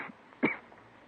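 A woman in a radio drama gives a single short cough, fairly faint, alone in a quiet moment between lines.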